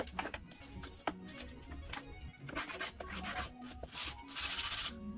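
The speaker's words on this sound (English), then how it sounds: "I've got to bring my bridge over here to sand." Sandpaper rubs across a wooden cello bridge in quick back-and-forth scratching strokes, close and fairly quiet, with uneven bursts of gritty friction.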